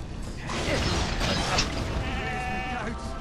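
Goats bleat in Skylanders Giants, several short nasal cries rising out of a busy mix of clanking, ratcheting game sound effects over about three seconds, with no talking.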